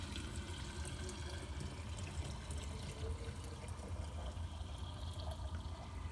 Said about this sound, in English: Nate pours it through a strainer